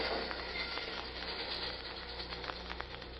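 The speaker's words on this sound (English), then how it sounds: "Now, fly low till the train goes past." A train rumbles past at a distance, a steady low roar with faint clanks and rattles from the wheels.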